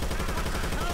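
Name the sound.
gunfire in the video game Left 4 Dead 2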